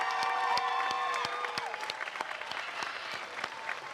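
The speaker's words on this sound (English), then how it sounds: "Please join me in one last round of applause for the class of" Graduation audience at a Notre Dame San Jose class of 2022 ceremony bursting into loud, dense applause, many hands clapping at once, with some cheering and crowd murmur; the clapping stays steady and fills the whole stretch.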